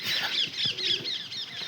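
Pigeons flap their wings in quick fluttering bursts, close and fairly soft, with faint chirpy tones over the beats.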